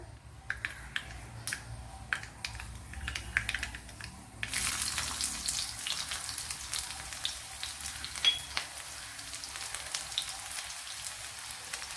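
Chopped small onions (shallots) dropped into hot oil in a pan, a few light clicks and taps giving way to a sudden, steady, close sizzle and crackle of frying, with no talk.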